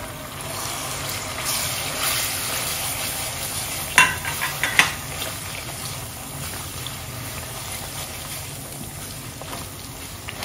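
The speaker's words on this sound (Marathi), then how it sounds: "वाटण चांगलं परतून घ्यायचं आहे थोडंसं।" A thick onion-garlic spice paste sautés in a generous amount of hot oil with a steady, close, hissing sizzle, and a few sharp spoon scrapes come just past the midpoint.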